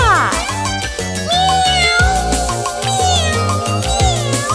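A singer imitates a cat's meowing in a children's nursery rhyme song about three little kittens, with sustained sung meows over a bouncy, loud musical accompaniment.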